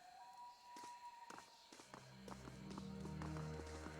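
Footsteps from the fantasy video game Pillars of Eternity, a quick series of soft taps and steps running over faint background music, quiet and fairly close.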